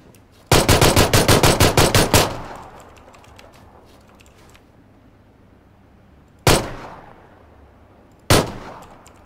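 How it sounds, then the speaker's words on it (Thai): Gunfire in the video game PUBG: a rapid automatic burst of about a dozen loud shots with ringing tail, then two separate single heavy shots a few seconds apart, echoing sharply. "ปืนสองนัด"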